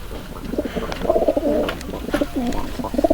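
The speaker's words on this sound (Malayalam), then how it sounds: "അടുത്ത പ്രാവ് ഇതാണ് ഗൈസ്." A pigeon coos in a continuous soft, throaty rolling burble, close and fairly loud, with no voices over it.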